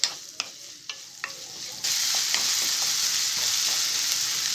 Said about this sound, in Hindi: प्याज हमने हल्के से फ्राई करने हैं, ज़्यादा ब्राउन नहीं करना है इनको